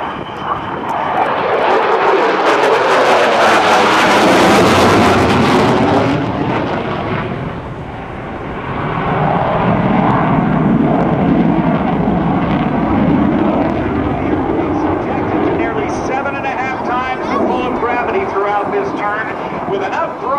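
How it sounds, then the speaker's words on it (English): An F/A-18F Super Hornet's jet engines roar loud and close during a minimum radius turn at an airshow at NAS Oceana, swelling, dipping and building again with a rumbling, tearing tone while an announcer talks over it. "From the left, it's the Super Hornet minimum radius turn."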